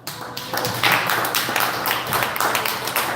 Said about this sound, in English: I want to give a really big applause for Hal.